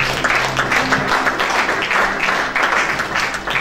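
A church congregation applauds and cheers during a worship service, a steady, dense wash of clapping that fills the room for several seconds without pause.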